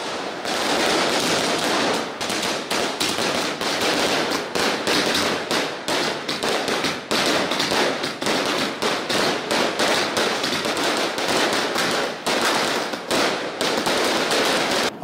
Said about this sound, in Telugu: కుటుంబ సభ్యులతో కలిసి దీపాలు వెలిగించి బాణసంచ కాల్చారు